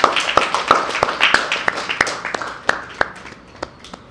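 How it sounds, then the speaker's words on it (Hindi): A church congregation claps to thank God during a Hindi sermon, with a steady run of sharp, evenly spaced claps that slowly thin out and fade. "इस ताली बजा के प्रभु का धन्यवाद कर सकते हैं।"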